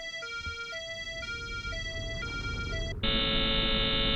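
In the Chaos;Head Noah video game, an electronic traffic-signal melody of repeating beeping tones plays, then is abruptly cut off by a loud, sustained buzzer that continues to the end.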